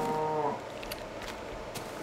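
A Minecraft cow gives a short moo at the start inside a cow milking factory, followed by low mechanical background hum and a few faint clicks.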